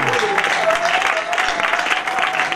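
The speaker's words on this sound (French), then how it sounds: "Si vous êtes réellement vivant, une très bonne main d'acclamation." A church congregation claps steadily and loudly throughout, with a faint sustained tone running beneath the applause.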